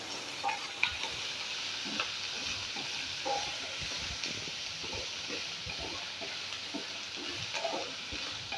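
Garlic sautéing in a pan while preparing a homemade Kerala-style mixed pickle, giving a steady sizzle and frying hiss with soft stirring clatter throughout, close and moderately loud, no voices.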